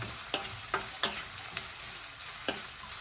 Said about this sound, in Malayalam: ഉള്ളി ഇട്ടിട്ട് ഒന്ന് ഇളക്കി കൊടുക്കട്ടോ